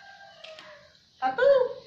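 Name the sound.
bantam chicken crowing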